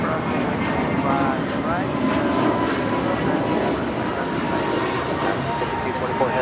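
An airplane passes at LAX airport with steady, loud engine roar throughout, while air traffic control radio chatter and voices run underneath.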